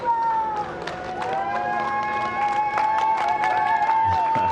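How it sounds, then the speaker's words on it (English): A small crowd cheers and applauds NASA astronauts Bob Behnken and Doug Hurley on SpaceX Demo-2 launch day, a continuous outdoor roar of claps and shouts with voices mixed in. "Small crowd, but big cheers."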